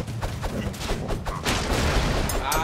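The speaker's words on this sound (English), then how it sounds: "Dude, you deflected his bullet!" Rapid gunfire and explosive bursts from the side-scrolling action game Broforce, a dense, continuous barrage of shots and booms that grows heavier partway through, with no talking.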